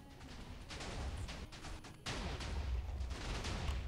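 Cannon shots boom in a video game, a quick cluster of heavy blasts with a sharp hit near the two-second mark, followed by rumbling impacts at close range and no voices.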